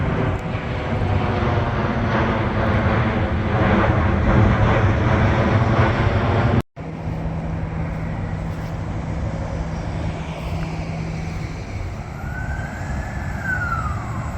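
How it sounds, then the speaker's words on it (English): Aircraft fly overhead near a bridge and roadway, a loud continuous engine roar that briefly cuts out, then resumes with a rising and falling whine late in the stretch. "Wow, a lot of aircraft around here."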